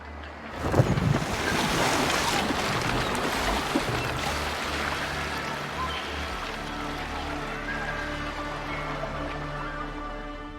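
A ship sails over open sea in Assassin's Creed Valhalla, with waves washing and surging against the hull under a steady wind roar, heavy at first and then settling into a constant rolling swell.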